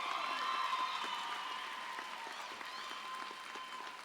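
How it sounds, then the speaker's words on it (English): Warm applause from the audience at a 2019 high school graduation ceremony, steady, even clapping heard from a distance in a large room, slowly tapering off. "Please give them a warm round of applause."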